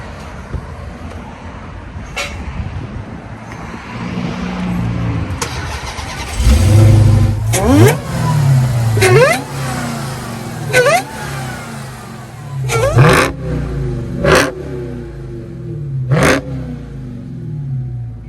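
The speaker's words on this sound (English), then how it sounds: "Let's start it up. Let's see how it sounds." A 2021 Dodge Charger Hellcat Redeye Widebody with factory exhaust cranks and fires up, then settles into a deep idle broken by several sharp, loud revs that rise and fall close by.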